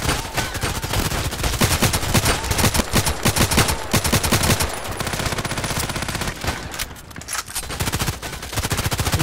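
Rapid automatic gunfire in the online shooter Contract Wars, loud and continuous bursts of close shots with brief pauses, nearly unbroken for the whole stretch.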